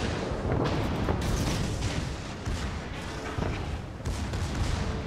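Torpedo fire and hits in the naval game World of Warships, heard as dense, continuous booming with rumbling blasts and heavy impacts, loud and close throughout, with no talk.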